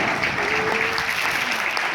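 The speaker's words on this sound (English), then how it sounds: "Give her a tremendous round of applause" Seminar audience giving a round of applause, continuous dense clapping from a large crowd at a steady level, with a faint voice briefly audible underneath.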